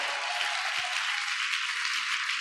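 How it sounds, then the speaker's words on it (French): A church congregation applauds and cheers loudly during a French-language sermon, a dense, steady wash of clapping and voices that holds at the same level throughout, with no single speaker standing out. "Est-ce que tu peux acclamer très fort?"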